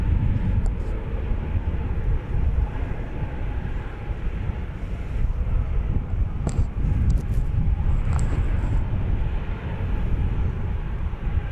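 British Airways Flight 193 airliner at DFW Airport, heard as a steady, broad jet roar at a distance that holds throughout, with light wind buffeting the microphone.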